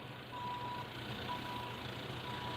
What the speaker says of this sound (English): see the dump truck there?